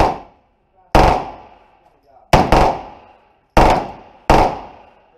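A fully automatic 9mm firearm fires at an indoor range, with five sharp bursts or shots spaced about a second apart, each loud and close with a short ringing decay.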